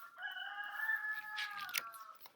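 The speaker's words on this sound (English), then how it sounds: "That's my rooster." A rooster gives a single drawn-out cock-a-doodle-doo crow, fairly faint and slightly distant, against a quiet background.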